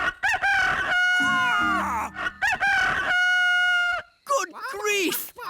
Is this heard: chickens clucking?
yes